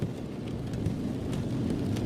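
Heavy rain pours down in a dense, steady hiss, with a low rolling thunder rumble underneath. No voices are heard.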